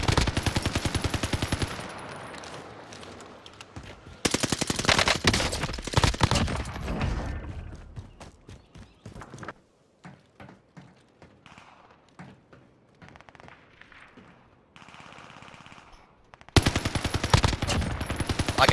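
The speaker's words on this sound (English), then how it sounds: "UAV beginning fire." A UAV firing its gun in a video game, rapid bursts of automatic fire at the start and middle, quieter scattered shots in between, and another burst at the end.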